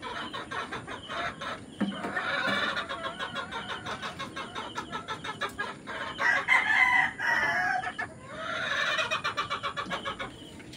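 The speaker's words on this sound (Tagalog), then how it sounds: "Ayun, mga manok Pinas" Backyard chickens and roosters in the Philippines cluck and crow repeatedly, with a rooster's long crow standing out among rhythmic clucking, nearby and fairly loud.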